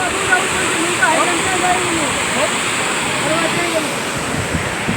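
Steady roar of rushing water from a waterfall, broad and continuous throughout, with faint voices underneath.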